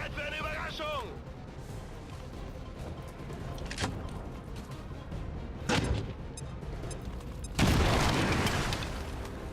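A grenade explosion in XCOM 2 bursts loud and broad near the end, preceded by a few sharper blasts and crackles over a constant game soundscape with music.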